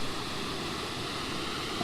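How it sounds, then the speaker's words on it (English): Low Force, a small waterfall on the Pennine Way, gives a steady broadband rush of falling water with no break across the short stretch and no voices. "So there's Low Force. Stunning little waterfall."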